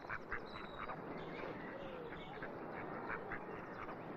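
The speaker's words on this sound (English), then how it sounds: "Listen, can you hear the ducks?" Mallard ducks quacking from reeds beside water, a steady run of soft, fairly distant quacks over a low outdoor hiss.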